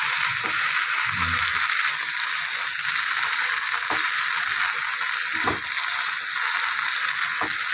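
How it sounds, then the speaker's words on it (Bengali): Potatoes fry in spices with boiled chana dal, producing a loud, continuous hiss and crackle up close, broken by a few dull knocks of a spoon against the pan. "মশলার সঙ্গে আমার আলুটা কষানো হয়ে গেছে, এবার দিয়ে দেবো আমি সেদ্ধ করে রাখা ছোলার ডালটা।"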